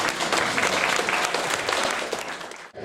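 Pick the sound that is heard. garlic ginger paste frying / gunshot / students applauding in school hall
students applauding in school hall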